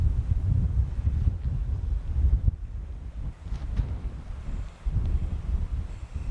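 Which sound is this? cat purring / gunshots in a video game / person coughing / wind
wind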